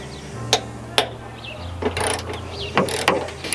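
A ratchet works a 10mm bolt loose from a car body panel during a panel swap onto a Honda Type R, giving several sharp clicks and knocks over a low steady hum.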